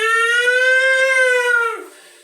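Voice imitating an ambulance siren, a single sustained wailing tone held steady for nearly two seconds, loud and close, then dropping away abruptly.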